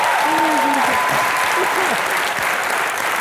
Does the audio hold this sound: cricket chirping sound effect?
no